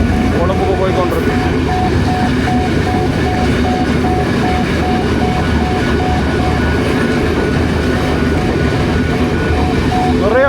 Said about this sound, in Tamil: இப்போ பார்த்தீங்களென்றால் பரந்தல்ல ரயில் போய் கொண்டிருக்கு பாருங்க, எக்ஸ்பிரஸ் கொழும்புக்கு போய் கொண்டிருக்கு.